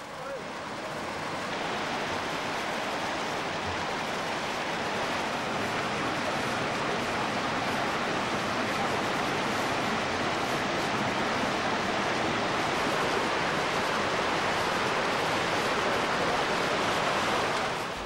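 Glacier-fed river from the Talung Glacier rushing through a deep gorge in the Sikkim Himalaya, a steady broadband roar of water that holds loud and unbroken throughout, with no other sounds standing out.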